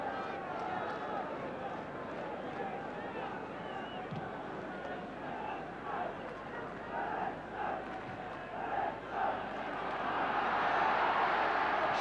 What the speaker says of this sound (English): the crowd coming to life.